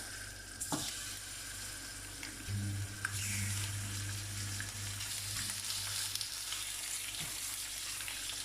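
Meat frying in hot olive oil for a quick tagine, a steady hissing sizzle at moderate level with a low hum under it and occasional light clicks and pan knocks, no one speaking.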